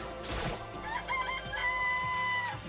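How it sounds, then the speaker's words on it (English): Chickens clucking and a rooster crowing in a video game, a few close, bright calls in quick succession with no voices. "It's a chicken."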